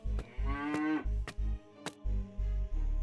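Golden-horned cow from a fairy tale, taken to a palace, lowing in several short, loud moos with pauses between them and no speech.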